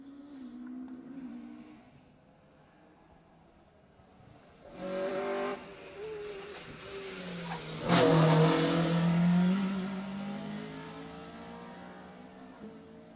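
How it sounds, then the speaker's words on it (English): A rally car races past on a closed stage at the 2018 Jersey Rally, its engine building from faint to a loud, revving pass around the midpoint, then fading with a falling pitch as it speeds away. "So that was car 19. He's just come through there."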